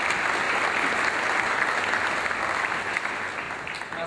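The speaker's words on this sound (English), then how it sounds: "Let's give them a round of applause." Sustained applause from a large audience at a Doane graduation ceremony, steady dense clapping throughout with no voices over it.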